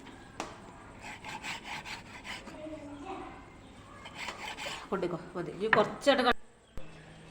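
A knife saws through cooked beef with repeated scraping strokes that grow louder and denser toward the end, then stop abruptly. A voice talks throughout.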